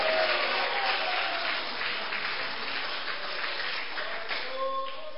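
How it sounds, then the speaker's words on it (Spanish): Sustained applause from a church congregation during a sermon, steady and fairly loud, fading slightly toward the end with a faint voice rising over it. "¿Cuánto pueden dar un aplauso a Cristo?"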